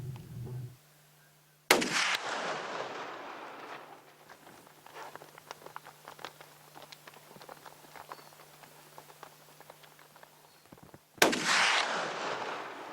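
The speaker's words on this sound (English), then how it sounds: "The first shot is perfect." Two sharp, loud rifle shots are fired at a mountain buffalo, roughly nine seconds apart, each with a fading echo. Soft rustling and movement fill the quiet stretch between them.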